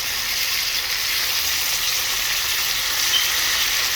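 A pork chop fries in a pan with a constant, even hiss of sizzling grease, heard close and alone without any voices.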